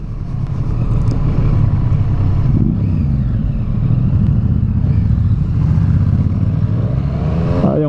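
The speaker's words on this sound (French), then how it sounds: "et encore de la belle moto, enfin pour ceux qui aiment Harley bien sûr." A Harley-Davidson motorcycle rides past on a coastal road outing, its engine a steady, loud roar blended with wind rush that holds throughout without pause.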